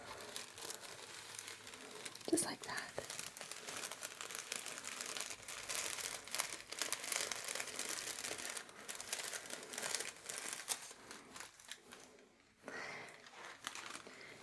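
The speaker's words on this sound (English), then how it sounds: "You have to be kind of careful with tissue paper because it can be really loud." Tissue paper being folded into itself and crumpled close up, giving a continuous soft crinkling and rustling with sharper crackles, a few quiet spoken words near the end.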